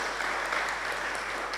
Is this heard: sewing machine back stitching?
no